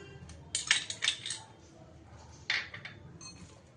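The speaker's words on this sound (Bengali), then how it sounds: "পেস্টের মধ্যে আমি আদা, রসুন আর কাঁচা লঙ্কা পেস্টটা মিশিয়ে দিচ্ছি" A utensil stirs ginger, garlic and green chili paste into raw chicken paste in a bowl, making several light metallic clinks and scrapes in two short bursts close by.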